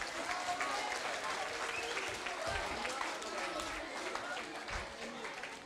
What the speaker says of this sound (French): Vous les encouragez par des applaudissements pour le collège Jean Jaurès.